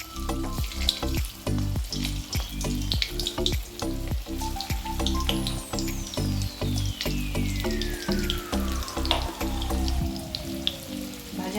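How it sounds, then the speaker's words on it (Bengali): Veg manchurian balls deep-frying in refined oil, a continuous bubbling sizzle with scattered crackles and pops and occasional utensil knocks, close and steady throughout. "রিফাইন তেল দিয়েছি, এতে ভাজা হবে মঞ্চুরিয়ান"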